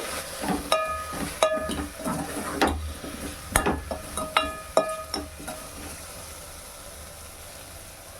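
Okra curry seasoned with chili powder being stirred in a pan, a spoon scraping and clinking against the metal in a few bursts over a low steady sizzle.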